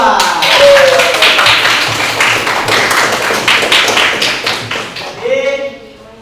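Rapid, steady clapping by a class group during a team game, dense and loud throughout, ending abruptly with a brief voice at the close.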